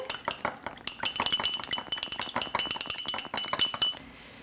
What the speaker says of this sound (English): Then you are going to whisk this together.